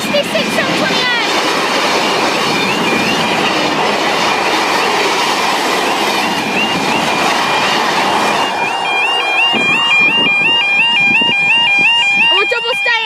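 Class 66 locomotive 66728 hauls a freight train past a level crossing, a loud close rumble with clattering wagons and squealing wheels, and a crossing alarm warbles near the end.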